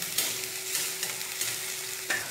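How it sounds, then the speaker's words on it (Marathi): Finely chopped green chillies frying in a pan on high flame as they are stirred in, a continuous crackling sizzle with light scraping strokes of the spatula recurring at a regular pace. "एक जवळपास 30-35 सेकंद याला देखील मोठ्या आचेवर फ्राय करून घ्यायचं आपल्याला"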